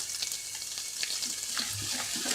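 Maida flour cooking in hot ghee for halwa, a steady close sizzle and crackle with faint stirring scrapes.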